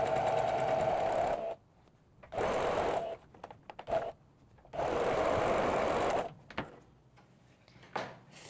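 A sewing machine stitches a seam on a blouse in three long, steady runs, each a fast, even whirr, separated by pauses with small clicks and handling knocks.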